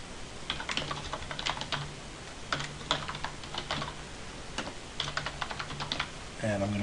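Login details typed on a computer keyboard: three rapid bursts of close, crisp key clicks separated by short pauses, over a faint steady room hiss, ending with a brief low thump.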